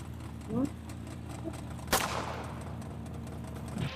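A single sharp gunshot cracks in a mobile crime action game, loud and close against a steady low game background hum, with a couple of faint electronic blips around it.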